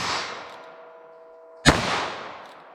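A sharp, loud single gunshot from a short-barrel .22 Magnum fired into a ballistic gel block, cracking suddenly after a moment of quiet and trailing off in a brief echo.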